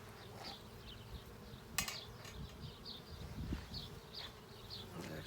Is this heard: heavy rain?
no